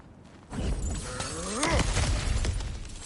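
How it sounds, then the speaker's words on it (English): Something smashed to pieces in God of War, a loud close crash and shatter of breaking debris that rumbles on briefly after the initial impact, with no voices over it. "Ah, back to smashing through things for fun and profit."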